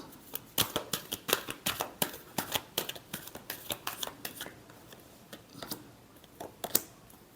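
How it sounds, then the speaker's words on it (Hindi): Tarot cards riffled and shuffled in a rapid string of crisp, papery flutters and snaps, close and fairly quiet, with no voice over them. "last shuffle"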